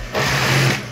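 A sewing machine stitches a woman's handbag made of fabric with lining in a short, continuous mechanical whir at close range, with no talking.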